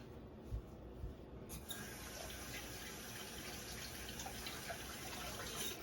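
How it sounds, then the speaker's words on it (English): Tap water runs steadily over a lemon being washed at a kitchen sink, a continuous close splash that grows fuller after the first second and carries on alone. "I'm going to wash my lemon."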